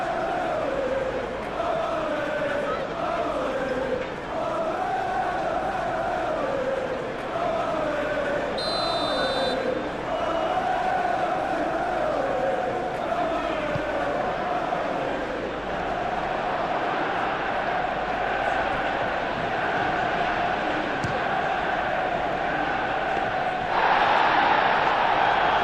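Stadium crowd noise in a football video game of a Manchester United versus Athletic Club Europa League match, a steady roaring murmur throughout with swelling chants and commentary-like voices beneath, and a brief buzzer tone partway through.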